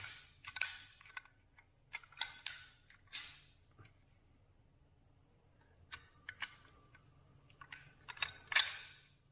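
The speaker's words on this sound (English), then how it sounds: "Your barrel is going to drop in right like that. And now it should click in." Metal parts of a Desert Eagle pistol being reassembled, the barrel dropping into the frame and clicking into place: a quiet series of short, sharp clicks and taps spread irregularly over several seconds against a faint low hum.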